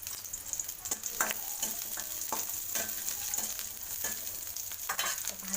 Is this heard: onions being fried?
yes